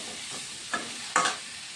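Pointed gourd, potato and soybean pieces frying with salt and turmeric in a pan, heard as a quiet sizzle with two brief stirring scrapes, the second louder, and no talking.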